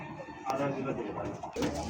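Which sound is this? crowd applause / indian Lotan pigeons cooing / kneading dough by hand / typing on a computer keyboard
indian Lotan pigeons cooing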